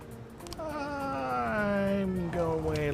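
A cat growls and caterwauls in the police-management video game This Is The Police, a drawn-out wavering yowl that rises and bends in pitch over a few seconds, fairly loud and alone.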